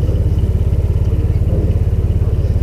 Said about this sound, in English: I did manage to get the engine running